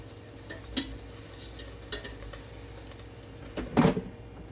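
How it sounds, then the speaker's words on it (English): Chicken legs sizzle faintly in an opened air fryer, a low steady frying hiss broken by a few short clanks and scrapes as the pieces are handled. "that is sizzling, and I'm going to flip these chicken legs over."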